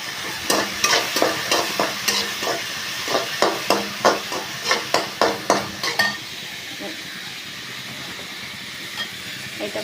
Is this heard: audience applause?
no